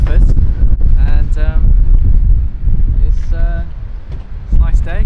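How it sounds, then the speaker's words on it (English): Wind buffets and rumbles against the microphone throughout while people talk over it outdoors in Guildford. "It's a bit windy."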